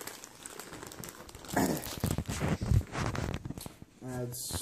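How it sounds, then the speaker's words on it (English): Dry bread mix is poured from a packet into a bowl with a steady, crinkling, rustling pour and papery handling of the packet. A voice talks over it. "pour the bread mix into the bowl."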